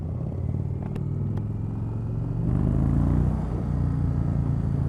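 2019 Indian Springfield Dark Horse 111 cruiser motorcycle being ridden: a steady, moderately loud V-twin rumble that swells as the throttle opens partway through, with no voices over it.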